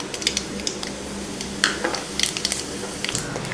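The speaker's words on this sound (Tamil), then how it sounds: "எண்ணெய் காஞ்சதுமே கொஞ்சம் கடுகு கொஞ்சம் ஜீரகம் சேர்த்துக்கலாம்" Mustard seeds and cumin spit and crackle in hot oil in a pan, a steady fry with scattered sharp pops, close and fairly loud.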